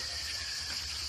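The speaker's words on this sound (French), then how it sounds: "les cigales qui ne cessent de chanter" Cicadas drone steadily in a continuous high, hissing chorus, faint but unbroken throughout, with no voices.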